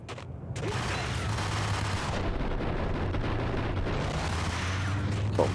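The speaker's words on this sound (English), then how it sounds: "Oh, my bullets went everywhere there." Gunfire in the Max Payne video game, a dense continuous barrage of shots and booms filling the whole stretch, loud and sustained.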